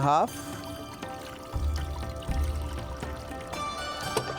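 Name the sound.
pouring water into a pressure cooker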